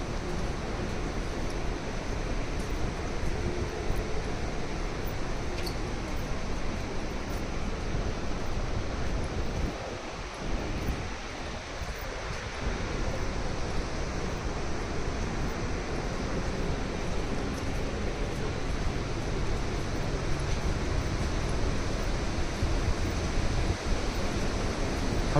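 Montmorency Falls in Quebec, Canada gives a continuous broad roar of rushing water, steady and full for the whole stretch with only a brief dip partway through. No voices are heard.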